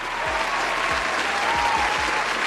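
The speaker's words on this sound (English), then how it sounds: "Round of applause." Studio audience applause rolls on steadily, a dense, even clapping texture with a few low thumps underneath and no talking over it.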